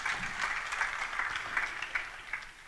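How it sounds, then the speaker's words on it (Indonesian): A church congregation claps steadily for a few seconds during a sermon, a dense, even patter of many hands with no voices over it. "Tepuk tangan untuk kebenaran ini"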